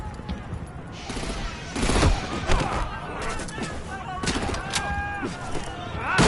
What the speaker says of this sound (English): The second I push the square button, he shoots me.